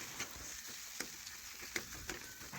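A pot of Kashmiri pulao being stirred after its lid comes off. Faint spoon scrapes and taps land at irregular moments over a soft, low background hiss.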